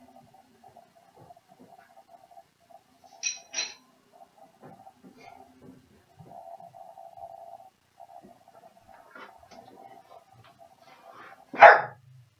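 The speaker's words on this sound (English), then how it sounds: "that is just dog out there" A dog barks outside, one quick pair of barks early and a louder single bark near the end, heard at a distance over a quiet room with faint tones and soft talk.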